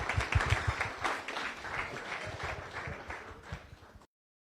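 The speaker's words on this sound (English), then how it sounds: "Please join me in a round of applause for all of our visitors and guests." A Rotary Club meeting audience in Las Vegas claps in a round of applause for visitors and guests, a burst of many hands that starts strong and slowly tapers off before stopping abruptly.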